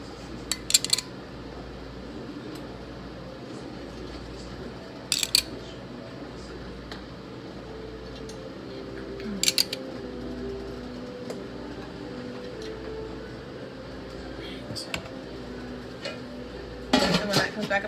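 Canning jars of whiskey tomato sauce being set back into a boiling water canner: a few sharp glassy clinks and clatters at intervals over a steady low bubbling rumble, with no one talking.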